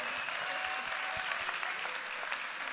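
An audience in Marseille applauds Marie-Hélène Bourlard, a textile worker of 43 years: dense, continuous clapping from a large crowd, loud and even throughout with no pause.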